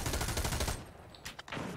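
Gunfire in the America's Army video game: a dense burst of rapid shots for most of a second, then a pause and a few scattered cracks, loud and close.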